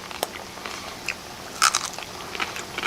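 Someone bites and chews freshly made crunchy pork skin on a farm. Close, sharp crunches and crackles come in several irregular bursts, with one loud snap midway, and there is no talk.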